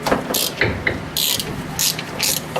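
A ratchet wrench loosening a nut while a ball joint is removed, giving several quick bursts of close, crisp clicking with brief pauses between strokes.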